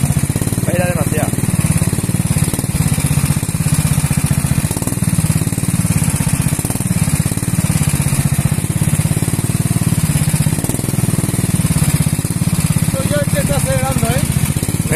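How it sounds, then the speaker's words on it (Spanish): A car engine hums in a steady, continuous drone as a learner driver accelerates, with voices talking over it throughout. "Pero acelera un poco, Zara, acelera y sin miedo. Venga, dale fuerte al pie"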